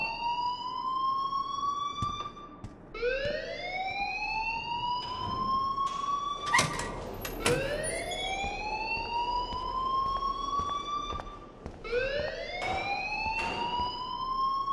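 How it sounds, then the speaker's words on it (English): A wailing alarm from the video game Life is Strange rises and falls in repeated sweeping cycles, loud and close, with no talking over it. "please turn off that alarm since that's your job"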